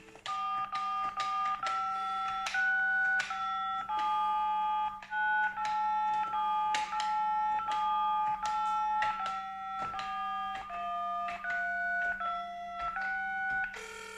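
Touch-tone phone keys beep one after another, about two dozen short dialing tones in an irregular rhythm over a low steady hum, close and clear with no speech.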